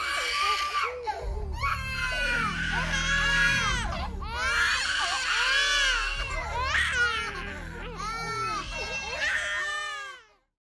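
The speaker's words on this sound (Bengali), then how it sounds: "মা হারা বাচ্চার কান্নায় নাকি কানের পর্দা ফেটে যাচ্ছিল।" An infant wails loudly and continuously in rising and falling bursts, close up, with brief gasping breaks between cries.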